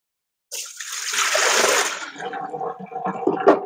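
A tub of water is poured out during a reflector telescope mirror cleaning, giving a sudden rushing gush that settles into splashing and trickling, close and fairly loud after a moment of silence.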